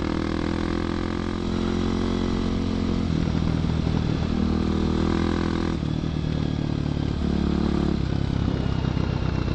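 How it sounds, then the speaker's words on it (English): A loud motorcycle running without its spark arrestor and with no plate, heard up close as it rides along: a harsh, continuous engine roar with a rising and falling pitch as the rider shifts and throttles. "Man, this bike is loud. I should probably put that spark arrestor back in."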